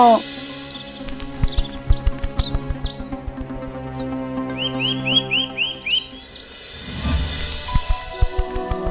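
Bird chirps and short whistled tweets ring out repeatedly over a busy layered backdrop of music and low thumps, moderately loud throughout.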